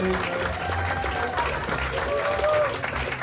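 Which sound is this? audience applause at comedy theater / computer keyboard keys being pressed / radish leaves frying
audience applause at comedy theater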